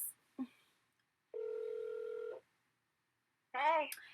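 A phone call being placed: a steady electronic ringback tone of about one second sounds clearly, preceded by a short click and followed by a voice answering.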